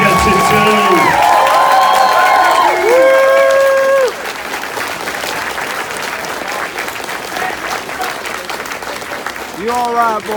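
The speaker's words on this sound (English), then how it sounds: "Ladies and gentlemen, make some noise for the cast of Red Dead Redemption 2." A crowd at a Fan Expo Toronto panel for the Red Dead Redemption 2 cast bursts into loud applause and cheering, with sustained clapping and whoops under an announcer's amplified voice, then easing to lighter clapping.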